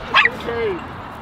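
A dog gives a brief yip and bark followed by a drawn-out whimpering whine, close by and moderately loud over a steady background hum.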